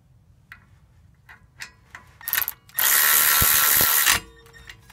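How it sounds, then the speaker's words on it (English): A Milwaukee power tool driving a 15 mm bolt on the rear brakes of a 2017 Ford Transit van, with a few clicks and short bursts, then a loud, steady, close whir lasting about a second and a half before stopping. "let's go down to the bottom and bring it in with the Milwaukee"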